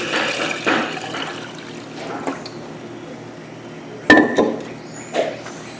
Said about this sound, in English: Pour some of the starter tea in here for my next batch.